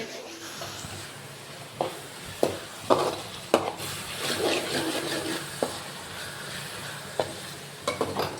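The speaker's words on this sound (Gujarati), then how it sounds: "આપણે ડુંગળીનો વઘાર કરી નાખ્યો" Onion tempering frying in a pan for aloo sev sabzi, a steady soft sizzle with repeated sharp clinks and scrapes of stirring, heard close.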